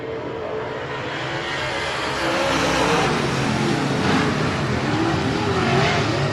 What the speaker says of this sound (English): They sound like race cars, that's for sure.